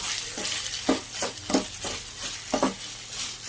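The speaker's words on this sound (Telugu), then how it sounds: "ఈ క్యాప్సికమ్ వేసి వేగేంత వరకు మంచిగా వేపుకోవాలి" Capsicum and curry leaves frying in a pan, a continuous sizzle broken by several rhythmic stirring scrapes at close range, with no talk.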